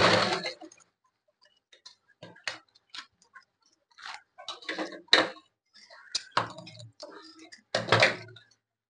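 A sewing machine stitching a zipper onto a small mobile pouch, heard as short, separate bursts of close mechanical clicking and whirring with quiet pauses between runs.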